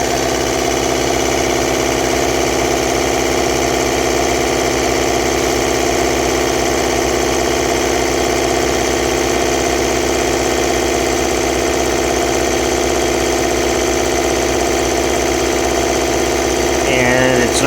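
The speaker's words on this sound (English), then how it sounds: "Definitely a lot quieter than today's modern compressors." A vintage Sears air compressor runs steadily throughout, a continuous motor drone with a faint knocking rhythm, at constant level and close by, with no talking.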